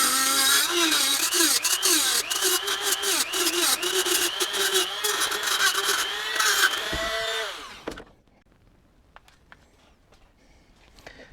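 Power grinder working on a shop vise weld repair, a loud close whining grind with shifting pitch as the disc bites the metal, cutting off abruptly near eight seconds and leaving quiet shop noise.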